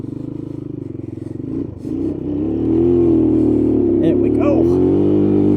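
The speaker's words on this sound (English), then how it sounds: "these tires are so bald they can spin it right around here in this mud" An old three-wheeler's engine revs up hard and holds a loud, steady roar as its bald tires spin in mud, with a short dip and clatter before the revs climb; a person speaks briefly over it.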